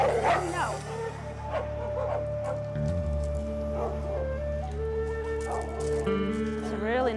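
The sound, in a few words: shelter dog barking and whimpering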